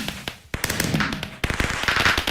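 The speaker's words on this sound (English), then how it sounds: "We've got fireworks, people." Fireworks go off in a space survival video game, a rapid string of sharp crackling pops and bangs in two dense bursts separated by a brief pause, loud and close with no talking.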